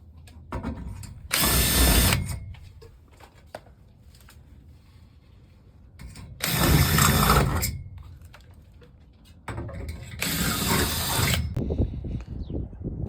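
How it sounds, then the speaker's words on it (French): A power drill bores holes into a greenhouse roof window frame in three loud bursts, each lasting one to two seconds, separated by quiet pauses filled with faint handling noises. "il va falloir percer ici, donc sur la structure"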